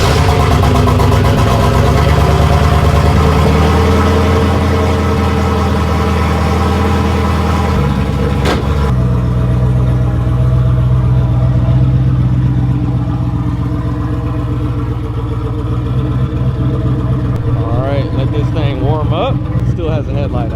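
A TurboMaro car's engine cold-starts after sitting a few days, settling into a loud, steady close-up idle with rough low rumble, then building into revving toward the end.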